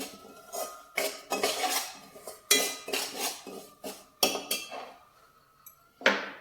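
Wheat rava roasting in ghee in a pan, stirred with a metal spoon that scrapes and clinks against the pan in repeated bursts, close and fairly loud, with no talk.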